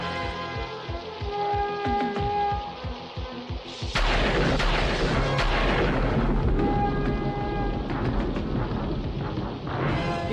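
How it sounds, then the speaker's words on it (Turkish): A cartoon thunderstorm in an animated He-Man episode, with a loud rolling thunder crash that breaks over steady, hissing rain and wind. A few sharper cracks follow. No voices are heard. "Hiç böyle bir fırtına görmemiştim."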